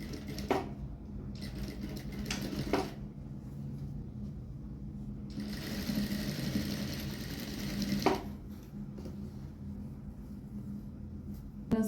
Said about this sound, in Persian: که حالا قسمت پایین گن رو میدوزم.